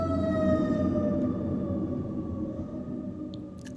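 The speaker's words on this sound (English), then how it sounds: "Sorry if you can hear the sirens outside." Emergency vehicle sirens wail outside, coming through indoors as a steady, muffled, drawn-out tone that slowly fades over a low background hum.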